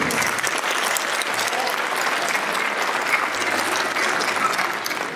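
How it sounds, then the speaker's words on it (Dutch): A room full of people claps for a performer at a Veldhoven magazine launch event, sustained, even applause filling about five seconds without a break. "Dus een applaus voor Mr. Modo."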